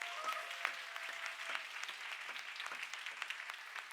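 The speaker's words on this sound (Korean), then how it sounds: "우리 큰 박수로 모시도록 하겠습니다." A church youth group gives a couple a round of applause, sparse-to-moderate clapping with distinct individual claps heard fairly softly and somewhat distant, continuing steadily throughout.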